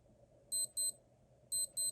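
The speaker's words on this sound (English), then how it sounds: "that's the alarm." A 1987 Casio TM-100 digital watch sounds its alarm: two pairs of sharp, high electronic beep bursts separated by a short pause, close and clear over quiet background hiss.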